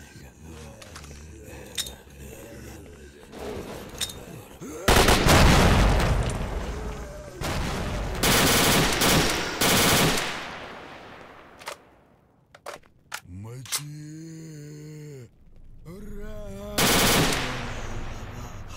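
Rapid automatic gunfire rattles in S.T.A.L.K.E.R.: Shadow of Chernobyl, long loud bursts with scattered single shots and booms, trailing into quieter stretches with a few distinct cracks and a final burst.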